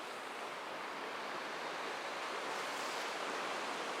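Fast water on the middle River Tees rushes steadily, a broad, even hiss of flowing current with no voices.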